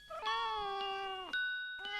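Cartoon cat in a children's animated story giving two clear, drawn-out meows, the second briefly cut off and resumed, loud and close with no talking.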